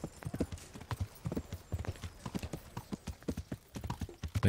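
Horse hooves clip-clopping at a steady trot while riding in the medieval game Kingdom Come Deliverance, a continuous close rhythmic clatter of hoofbeats with no talking over it.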